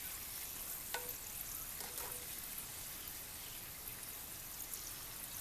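Wonton chips fry in hot oil with a steady, soft, close sizzle and crackle. A few faint clinks sound near the start, and no one speaks.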